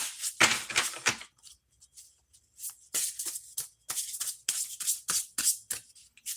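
A deck of tarot cards is shuffled by hand in quick bursts of papery riffling and flicking, close and fairly quiet, with short pauses between the rounds.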